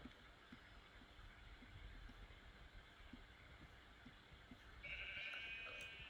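A sheep in the modded Minecraft game GregTech: New Horizons gives a single short bleat near the end, over a steady low hum of game ambience.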